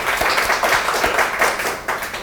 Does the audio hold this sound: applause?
yes